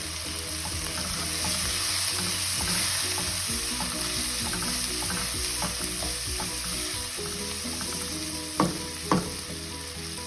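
Mustard and turmeric powder fry in a pan for poha, giving a steady close sizzle with scattered crackles and stirring scrapes, plus two sharper pops near the end.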